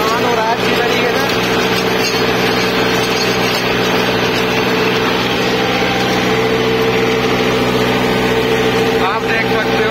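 A John Deere 3028 mini tractor engine runs loudly and steadily close by, a continuous dense mechanical drone throughout, with someone talking over it.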